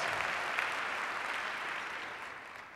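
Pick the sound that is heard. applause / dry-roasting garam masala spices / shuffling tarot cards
applause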